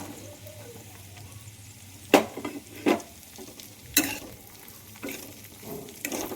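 Dal frying in a pan with chopped carrot and spring onion pieces being stirred in: steady low sizzle under sharp scraping strokes of the spoon, several distinct scrapes at irregular intervals, close and fairly loud, no talking.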